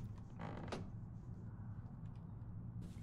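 A drawer creaking open in a horror video game set in an old house, a short wooden creak near the start over a low hum, followed by quiet ambience and a faint rattle.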